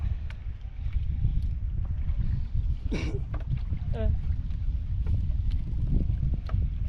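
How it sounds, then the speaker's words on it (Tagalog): Strong wind roars and buffets the microphone throughout, with a couple of brief voices calling out over the steady rush. "Wow, ang lakas ng hangin, tropa."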